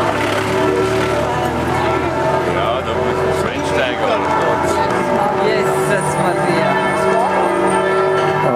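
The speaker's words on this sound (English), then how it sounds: "so you hear the bells" Church bells ring out in overlapping, resonant peals amid street noise and passing traffic in Florence, Italy, with people talking nearby.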